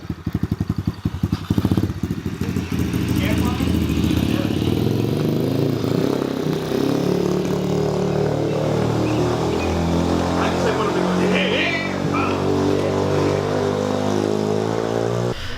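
An Apollo 125cc pit bike engine runs close by, with uneven sputtering pulses for the first couple of seconds that settle into a steady, humming idle.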